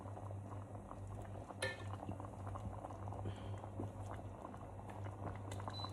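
Beef stroganoff sauce bubbling and simmering steadily in a pot, a continuous close gurgle, with one brief clink of a utensil early on.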